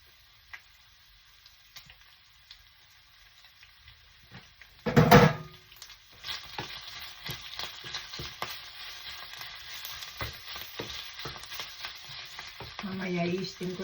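Minced meat and tofu sizzle quietly in a pan, with a sharp clatter of the spatula partway through, then a steady crackling fry under intermittent scraping and stirring.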